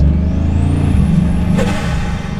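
A Bugatti Chiron Sport accelerating hard, its engine roaring loud and close with a rising whine climbing steadily, then a sharp burst as the power keeps building.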